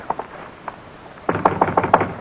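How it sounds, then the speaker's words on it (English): Knocking on a door in an old-time radio drama set at night outside an office: a few faint taps, then a loud, close burst of about five sharp raps, with no talk over them. "should we knock? Should we go home? We'll knock."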